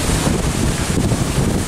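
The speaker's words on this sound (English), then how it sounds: "windy day." Strong wind blustering on a brisk day beside a lake or river with low water and exposed shoreline, a steady loud rumble of gusts buffeting the microphone throughout, with no voices.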